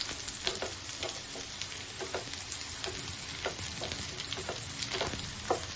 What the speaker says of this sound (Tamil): நல்லா வதக்கிடுங்க. மிளகா நல்லா